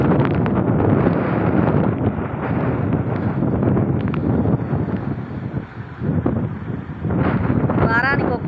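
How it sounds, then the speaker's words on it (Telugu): Strong, steady wind from a wind and rain storm in Ongole roars into the microphone with a dense rushing hiss, while a person talks underneath throughout. "మాకైతే ఒంగోలులో గాలి కొడుతుంది వర్షం పడుతుంది"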